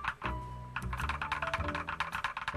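Typing on a Kchibo NJ63Pro, a 63-key 60% mechanical keyboard, a quick run of close, crisp keystrokes in an uneven rhythm, clacking alone without talk.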